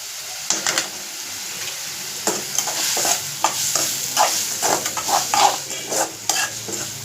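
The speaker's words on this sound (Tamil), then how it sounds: "இப்போ தக்காளி வெங்காயம் மட்டும் நல்லா வதங்கி வரட்டும்." Onion, tomato and green chili sautéing in a pan, a steady sizzle with repeated scraping and clinking of a spoon stirring against the metal.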